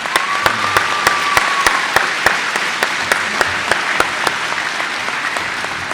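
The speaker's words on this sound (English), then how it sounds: "Let's give them a round of applause." Applause for faculty at a technical institute graduation ceremony, with broad crowd clapping joined by sharp, regularly spaced loud claps close by, and a brief whistle-like tone early on.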